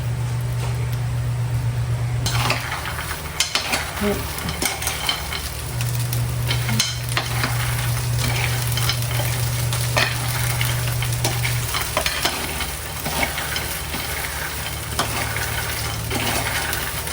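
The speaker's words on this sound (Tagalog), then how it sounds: "parang lumalagitik yung mga balat po ng mani. At naluluto pa po sa mantika. Haluin na po natin." Peanuts frying in hot oil with garlic in a pan, a steady loud sizzle with crackling as the skins pop, and repeated scraping of a utensil stirring through the nuts.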